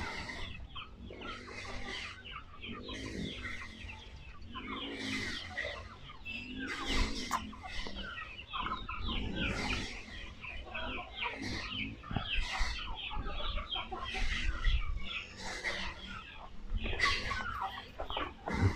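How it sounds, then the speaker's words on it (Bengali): A flock of young native chickens on a farm in Cambodia clucks and chatters continuously nearby, overlapping calls forming a busy, steady farmyard murmur without any talking. "এগুলো সব দেশি মুরগি, এগুলো এখনো বাচ্চা।"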